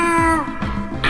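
A cartoon cat in a spooky Bangla animated series gives a drawn-out, tonal meow that wavers and falls, close and clear, followed by a shorter second call.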